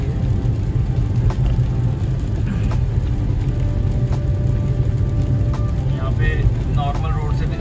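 Car driving along the Yamuna Expressway, a steady low road-and-engine rumble with tire noise holding constant throughout, heard from inside the vehicle with no one speaking.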